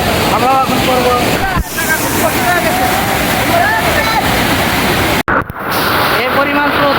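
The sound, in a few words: strong water current rushing through Raotara sluice gate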